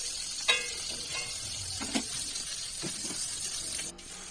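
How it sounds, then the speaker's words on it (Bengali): Mutton frying in a wok, a steady close sizzle and hiss with occasional stirring scrapes and small spatters throughout. "যতক্ষণ না এটা কড়ার গায়ে লেগে যাবে, ততক্ষণ আমি এটা ভেজে নেব।"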